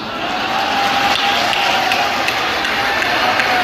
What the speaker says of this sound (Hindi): तालियां कम है, जरा भरपूर दीजिए